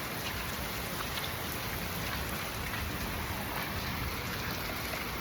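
Heavy rain pouring steadily onto a rooftop, a dense, even hiss of drops with no breaks, fairly distant and uniform throughout.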